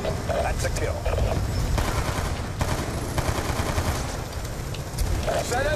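Rapid automatic gunfire and shots from the video game Call of Duty: Black Ops 2, loud and steady throughout, with brief sharper bursts over a dense battle din.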